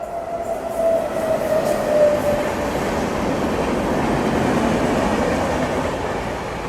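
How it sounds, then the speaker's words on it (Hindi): A passing train rolls by on the railway line, heard from aboard a Delhi to Prayagraj special, a loud, steady rumble of wheels and carriages with a brief squealing tone early on. "इस तरह से भी कोई ट्रेन क्रॉस हो रही है अपने को"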